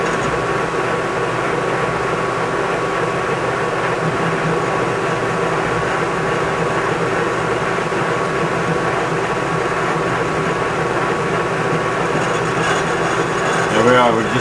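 Machine making a face cut across a cast iron clam pumper part to trim braze build-up, a continuous loud steady cutting drone close by that runs throughout, with a brief rise near the end.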